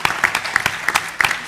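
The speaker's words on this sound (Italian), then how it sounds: "facciamoglielo un applauso a questi centinaia di lavoratori" Scattered audience applause for hundreds of shift workers at a Sardex panel event, a loose patter of individual claps with sharp peaks rather than a dense roar, fairly close and with no speech over it.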